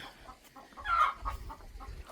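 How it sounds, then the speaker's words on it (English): A few hens cluck softly nearby around a homestead yard in Mexico, a short burst of clucking in the middle with quieter sounds around it. "more chickens back behind here."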